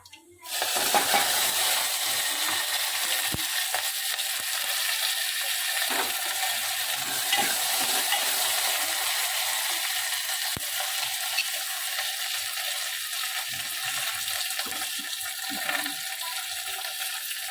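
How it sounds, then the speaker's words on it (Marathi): Steady, dense crackling and popping of spices, green chillies and curry leaves spluttering in hot oil, close and continuous throughout with no talking. "छान तडतडलेला आहे"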